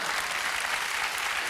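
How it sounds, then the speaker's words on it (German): Enthusiastic audience applause at a German TV entertainment show, dense steady clapping that fills the whole moment with no speech over it. "Du hast jetzt schon mal einen riesen Applaus verdient"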